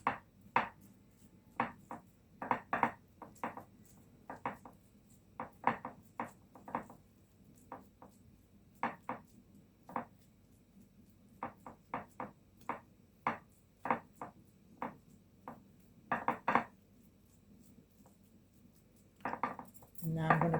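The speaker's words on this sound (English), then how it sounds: "You want the top to be rough, so you use your fork" A fork scraping and tapping shortbread dough spread in a baking pan for a Liberian shortbread recipe: repeated short clinks and scrapes in an irregular rhythm, fairly close and quiet, with no talk.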